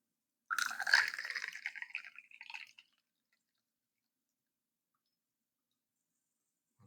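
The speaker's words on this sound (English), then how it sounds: "I'm going to put this hot water in here." Hot water poured into a container for a home diffusion experiment: a close, steady trickling pour lasting about two seconds that then stops, leaving silence.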